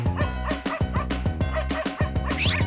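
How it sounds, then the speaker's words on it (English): A dog barks repeatedly in a steady, rhythmic series of close, loud yaps over a musical backing in a guess-the-animal video game. "Dog."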